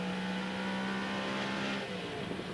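TVR Tuscan race car engine howling at speed during a street race at the 1990 Birmingham Superprix, a steady loud drone with a slight drop in pitch near the end as the car brakes and shifts down.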